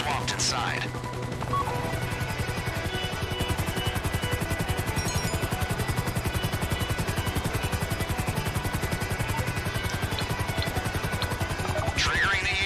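A helicopter in GTA Online hovers over a lab during a heist raid, its steady rotor thump filling the scene at constant loudness, with gunfire and crashes mixed in and players talking throughout.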